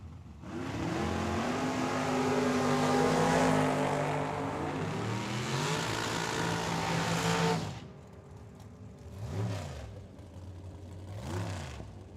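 A big Ford Thunderbird and a Mustang drag racing car launch side by side at a dragstrip with a loud, roaring engine blast for several seconds, then cut off, followed by two fainter revving bursts farther away.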